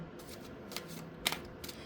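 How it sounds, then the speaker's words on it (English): Thick tarot cards being shuffled indoors, a soft riffling and slapping with a few sharper flicks, close and fairly quiet over a low steady hum. "these cards are a little difficult to shuffle sometimes because they're so thick"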